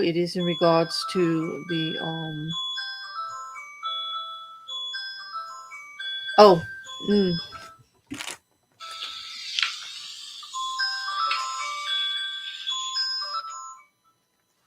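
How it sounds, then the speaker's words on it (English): A phone alarm chimes the Greensleeves melody in bright, repeating tonal notes, running for most of the span; someone speaks briefly at the start and again midway over it. "sorry, that was my alarm."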